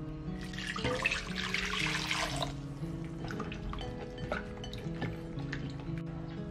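Red dates (jujubes) being rinsed in clean water give soft, steady swishing and dripping sounds close by, with a faint hum underneath.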